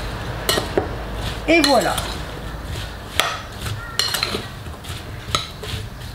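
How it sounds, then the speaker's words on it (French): Apple filling being stirred with cinnamon in a bowl, a spoon clinking and scraping against the sides in several distinct knocks, close and moderately loud, with a brief spoken remark near the end. "Et on vient tout simplement mélanger tout de suite avec la cannelle."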